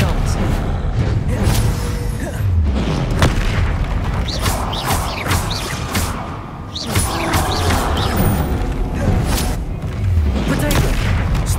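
Repeated booming blasts and crashes in the Hogwarts Legacy video game, rolling through a dense, busy battle with a voice calling out over the action throughout.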